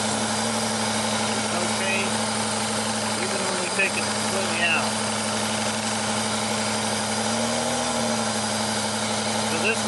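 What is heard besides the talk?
car engine idling, misfiring cylinder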